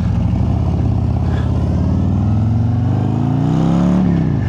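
A Harley-Davidson motorcycle fitted with a 135 ci crate engine on an open road ride toward Beachy Head, its deep, loud engine note steady and close, with the rumble rising in pitch as it accelerates near the end.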